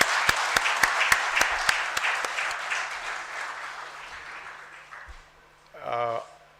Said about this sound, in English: I'd like to have a round of applause for both of them